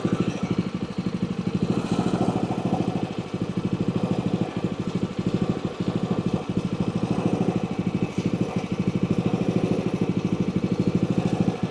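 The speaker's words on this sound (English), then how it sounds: "We'll turn the McLean off and bring it back in here." A McLane lawn mower's small engine runs steadily close by, a continuous rapid putter with a rough, even pulse throughout and no change in speed.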